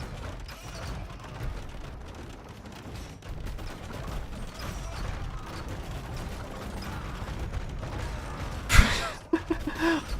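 Trebuchet shot in a castle-siege video game: a loud, sharp impact crack near the end cuts through a steady rumble of creaking siege machinery and distant battle noise.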